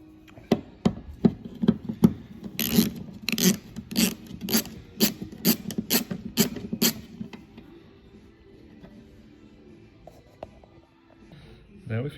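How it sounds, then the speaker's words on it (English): Ratcheting on a 13mm bolt holding an Audi rear wiper arm: a run of sharp, evenly spaced clicks and creaks from a hand tool, loud and close, fading out after about seven seconds into quiet shuffling. No one talks. "And then we need to undo this 13mm bolt here."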